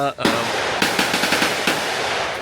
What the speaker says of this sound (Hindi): आपको आवाज़ आ रही है, आप एक्सपीरियंस कर सकते हो रियल गन का